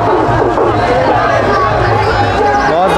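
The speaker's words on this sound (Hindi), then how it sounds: "बहुत ज़्यादा भीड़ है।" A large, dense crowd murmurs and chatters at a busy dargah, a continuous close babble of many voices with no single speaker standing out.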